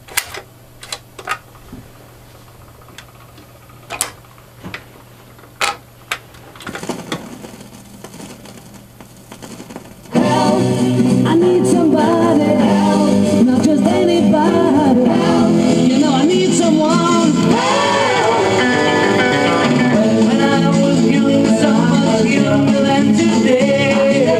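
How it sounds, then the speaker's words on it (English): A record player's auto changer works through its cycle with a string of sharp mechanical clicks and clunks over quiet hiss, then loud music suddenly starts from the dropped record and plays on steadily. "start the auto changer, flick the switch down to auto"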